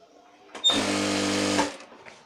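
Sewing machine running a straight seam on petticoat fabric, a single close whirring burst of about a second that starts and stops abruptly, with soft handling noises before and after.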